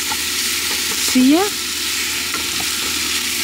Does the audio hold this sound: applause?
no